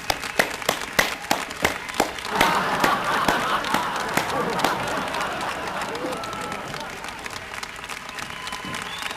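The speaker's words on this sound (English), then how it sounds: "Would everyone please give a big, warm round of applause for Dr. Douglas Farnsworth." A studio audience applauds a guest, Dr. Douglas Farnsworth, with sharp, closely spaced claps that swell into a dense, sustained round of applause and then ease slightly while murmuring continues underneath.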